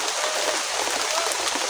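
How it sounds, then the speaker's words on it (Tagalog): Heavy rain pours down outdoors in a steady, dense hiss of drops hitting the ground and nearby surfaces, constant and close throughout with no talking. "Ang lakas ng ulan ngayon, oh."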